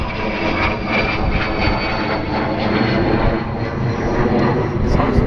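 A model propeller airplane, a Boomerang Sprinter, flies at a model airfield with its engine droning steadily and continuously at close range, with a few voices faintly present under the engine noise.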